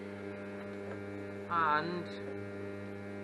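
Welding arc blowing through thin metal on a gate with the amperage set a bit high, a steady electrical hum and crackle that swells louder for about half a second partway through, with a brief spoken word.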